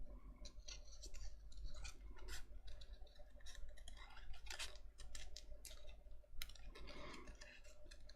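Tim Holtz Tonic scissors fussy cutting simple paper shapes, giving a close run of crisp snips and light clicking scrapes, steady and fairly loud, with no talking.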